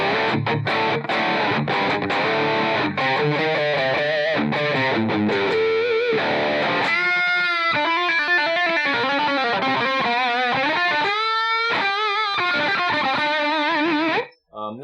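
Electric guitar played through an Ecstasy Red heavy distortion pedal, starting with fast palm-muted chugging and then ringing sustained chords and bends, loud and upfront.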